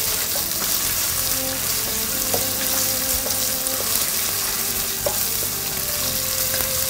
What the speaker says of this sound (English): Going to saute this onion until it starts to turn golden brown around the edges